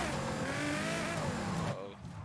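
A car drifting in Forza Horizon 5, engine whine with a sustained tire squeal sliding in pitch, loud and close, easing off near the end.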